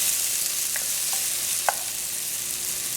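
Onions, garlic, chopped pimento and tomato fry in a pot for Trinidad-style stew fish, giving off a steady, even sizzle and one brief stir.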